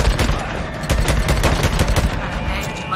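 Rapid automatic gunfire rattles in the video game Days Gone, a dense, loud burst of repeated shots with sharp cracks packed closely together throughout, no voices over it.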